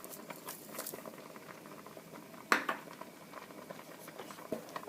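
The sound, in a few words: tomato paste at a rolling boil in a pot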